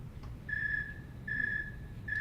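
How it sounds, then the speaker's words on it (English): A snowy tree cricket chirps in steady, evenly spaced pulses of a pure high trill, three in a row, moderately faint over a low background rumble. "Have you ever seen a snowy tree cricket?"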